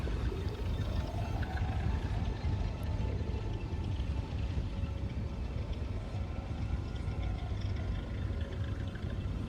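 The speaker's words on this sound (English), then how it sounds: "I love the sound of engines." A deep, steady Vanduul Stinger spaceship engine hum from Star Citizen rumbles continuously at moderate loudness, a dense low drone with a faint tonal whine over it, no talking.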